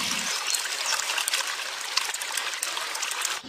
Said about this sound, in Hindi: वे खालिस दूध में पानी मिलाकर उसे 4 बाल्टी कर देता है।